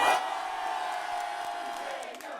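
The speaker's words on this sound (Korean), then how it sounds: "여러분 3초간 전방을 향해 함성 발사!" A crowd at a Democratic Party political rally in Korea lets out a sustained, roaring cheer of shouts and whoops held for a few seconds, loud and continuous before tapering off.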